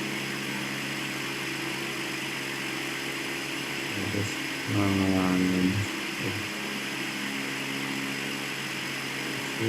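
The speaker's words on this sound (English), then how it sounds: "okay, let's start the engine again and again." A steady engine hum from a ship in a flight game, droning continuously with a brief rising whine and a few clunks in the middle.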